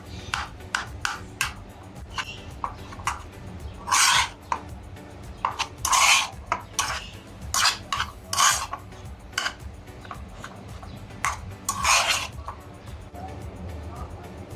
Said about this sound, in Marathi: इथे थोडा बटाटा घेतला तो सुद्धा आपल्याला मॅश करून घ्यायचा